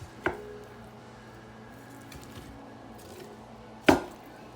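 Knife chopping pork for carnitas into chunks on a cutting board, two distinct sharp chops a few seconds apart with quiet kitchen background between them, close and clear.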